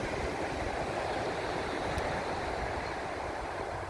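Sea waves at a beach, heard as a constant, dense wash of surf noise that stays steady and fairly close throughout, with no voices.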